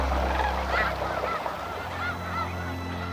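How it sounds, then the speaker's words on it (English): Thousands of snow geese honk together at dawn as they take to the sky over California's Central Valley, a dense, steady chorus of overlapping calls that carries loud and close throughout. "At dawn, one of California's greatest spectacles unfolds as snow geese take to the sky by the thousands."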